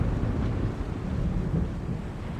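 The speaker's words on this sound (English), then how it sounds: "It is a chaos storm. A strong storm caught in a magical vortex, drawn to strong magic like bees to honey." Deep thunder from a magical chaos storm in the video game The Longest Journey rolls as a steady, dense low rumble that fills the whole stretch without a break.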